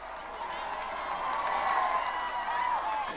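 Press crowd cheering and applauding at the presentation of a newborn royal baby, a busy swell of voices and clapping that builds toward the middle, heard at moderate distance.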